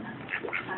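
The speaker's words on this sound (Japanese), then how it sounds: "ガーガーうるさい。" A duck quacks a few times close by, harsh nasal calls in a short burst.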